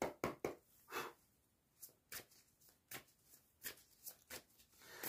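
Tarot cards are shuffled and handled close up, with quiet irregular riffling bursts and soft slaps separated by brief pauses, faint overall.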